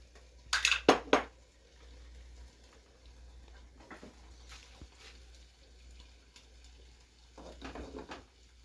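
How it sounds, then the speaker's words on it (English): A spoon stirring food in a skillet, with a couple of sharp scraping clatters near the start and softer utensil scrapes and taps later over a quiet background. "I'm going to give that a good stir"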